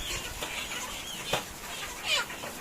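Chickens on a small farm give short, scattered clucks with a brief flutter of wings, fairly close and moderately loud over a quiet background.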